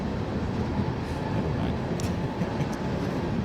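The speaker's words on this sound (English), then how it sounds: "this train, there's some rad rolling stock on this train" Freight train with flat cars and tank cars rolling past in a northern Arizona winter setting, a steady broad rumble and rush of wheels on rails with faint squeals, continuous throughout and with no talk.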